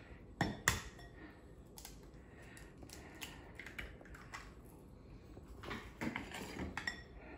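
Ravioli filling of granulated garlic, grated pecorino romano and an egg being stirred in a bowl, with scattered clinks and scrapes of a utensil against the dish, soft and close, no voices.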